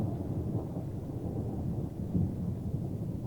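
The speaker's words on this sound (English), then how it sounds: "Thunder." Low rumbling thunder rolls continuously, distant and moderately loud, with faint rain texture and no voices.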